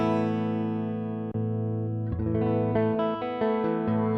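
A clean electric guitar played through a NUX Cerberus multi-effects pedal with cabinet emulation, sustained chords ringing out, then a new chord struck and a few notes picked over it, clear and fairly quiet, with no talking.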